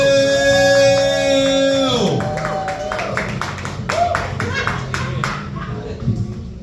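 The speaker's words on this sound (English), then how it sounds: "Start clapping, start making some noise." A stand-up comedy audience gives scattered, uneven clapping that swells after a brief tonal chime and then carries on steadily under general crowd noise.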